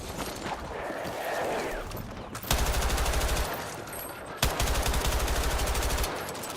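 Full-auto M4 rifle fire in a video game, two sustained bursts of rapid shots at close range, each lasting about two seconds, over faint game ambience.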